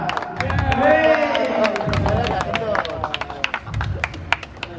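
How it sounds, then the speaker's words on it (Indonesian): A crowd claps and cheers in a noisy room, the applause swelling and fading in bursts amid overlapping chatter. "Dari tepuk tangan buat Amso Pak Kalipan."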